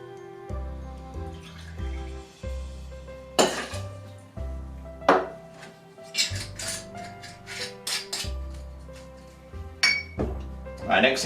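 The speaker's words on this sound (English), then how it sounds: "put some ice into your shaker" Ice cubes clink and rattle into a cocktail shaker for a colour-changing martini made with Tanqueray gin, several sharp bursts of clinking over a low steady background with music-like tones beneath.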